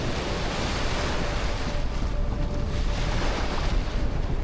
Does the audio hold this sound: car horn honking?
no